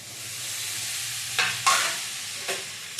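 Tomato goes into frying chili chicken and gets stirred, a steady oily sizzle broken by a few sharp scraping stir strokes near the end, close and fairly loud with no talking.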